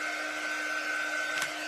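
A hair dryer blows air steadily over a jar of craft paste for holiday decor, giving a continuous whooshing hum with a brief sharp click near the end and no talking.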